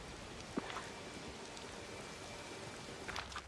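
Steady rain falling in the Disney Dreamlight Valley video game, a faint, even patter with a few light drop ticks near the start and end, and no voices.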